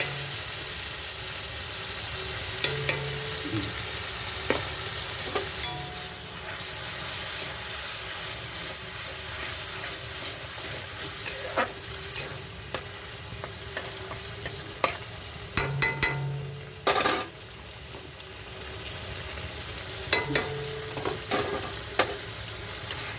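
Tomato and ground cumin paste frying in a pan after fish, a continuous sizzling hiss with intermittent clatter of stirring and spoon taps, close and fairly loud, with no voices.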